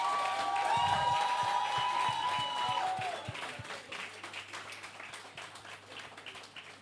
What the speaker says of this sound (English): Please give them a arcade round of applause.